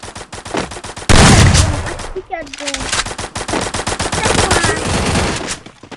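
Loud automatic gunfire in the Free Fire video game, rapid repeated shots fired in long bursts with a sudden denser volley, over game effects and a voice talking.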